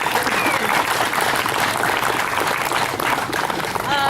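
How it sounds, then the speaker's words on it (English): Audience applause following a Tiger Tail Broadsword kung fu performance at an Asian festival in Columbus, a steady, dense clapping that holds for several seconds at moderate loudness. "Let's give him a round of applause."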